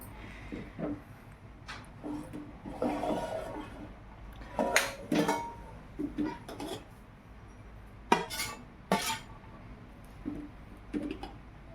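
A metal spoon stirs egg curry in a cooking pot, scraping and clinking against the sides in irregular bursts, fairly close and moderately loud with no talk.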